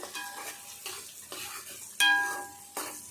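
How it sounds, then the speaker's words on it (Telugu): Onions sizzle in a pan while a spoon stirs them in repeated scraping bursts, the frying hiss rising and falling with each stir. "కొంచెం ఇది ఉల్లిపాయ అంతా మంచిగా గోలాలి."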